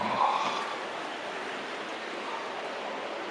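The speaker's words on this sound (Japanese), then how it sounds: "水の音がする" Flowing water of an underground river inside a dark limestone cave on Okinoerabu Island, a soft, steady rushing hiss with even, sustained flow, faint and echoless, with no voices over it.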